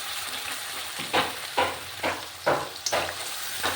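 Onion and spice paste sizzling in a hot pan for a goat mutton curry, a steady fry hiss broken by several louder bursts of stirring and scraping, close by with no talk.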